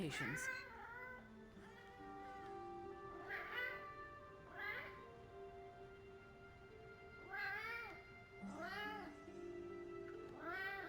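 A house cat meows repeatedly and fairly loudly nearby, a run of drawn-out rising-and-falling calls spaced a second or two apart, heard alone over faint room noise.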